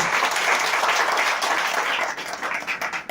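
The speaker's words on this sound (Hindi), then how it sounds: "हम चाहेंगे कि उस इनाम के लिए एक बार जोरदार ताली मारिए, जोरदार।" A seated audience claps loudly at a business income plan presentation, dense sustained applause that thins toward the end.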